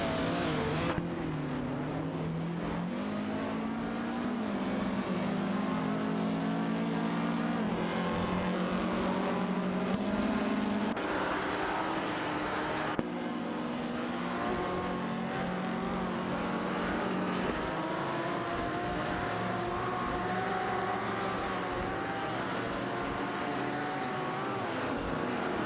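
Race cars, including an Aston Martin Vantage and a Lancia Stratos Zero, roar through an AI-driven video game race. Engines drone steadily and rise and fall in pitch as the cars shift and accelerate, with no one speaking.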